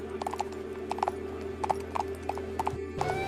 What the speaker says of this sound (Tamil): ொர்தேகாய்க்கு ராஜாவின் சொந்த ஆடைகள் அணியவும் ராஜாவின் சொந்த குதிரை சவாரி செய்யவும் வழங்கப்பட்டது